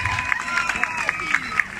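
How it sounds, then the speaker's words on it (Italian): Audience at an outdoor beard contest in Corropoli, Italy, applauding two young vote counters, a short burst of scattered clapping over crowd murmur and background music. "Davide Micozzi e Federica Armellini, facciamo un applauso a questi due giovani."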